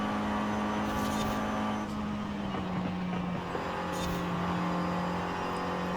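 Alpine car in Forza Horizon 5, all-wheel drive, its engine holding a steady drone that dips slightly in pitch midway as a gear shifts, loud and close throughout with no talking.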